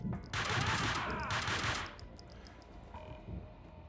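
Gunfire in the action game Max Payne 2: a loud burst of rapid shots up close, dense and continuous for about two seconds, then trailing off into quieter game sounds.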